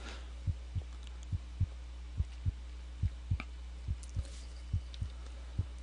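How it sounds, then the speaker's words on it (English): A heartbeat in the Molyjam Slender-style video game thumps alone in steady, evenly spaced double beats, low and close, over a faint background hum. "Did standing still make my heartbeat go down below that lower threshold?"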